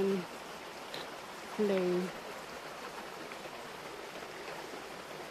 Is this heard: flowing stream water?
yes